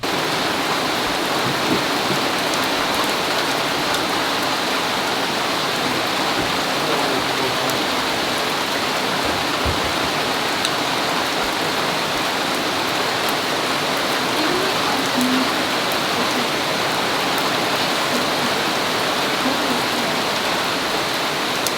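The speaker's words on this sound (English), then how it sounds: "It's about to downpour right now. And if you've never seen a tropical rain, you're gonna see one right now." Heavy tropical downpour at a woodland cabin-building site, a steady dense hiss of rain pounding surfaces that stays loud and unbroken throughout, with no voices.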